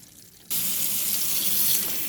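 A tap suddenly opens to a loud, steady rush of running water as a Diamotech nonstick pan is rinsed clean after cooking ravioli, the splash continuing without any talking.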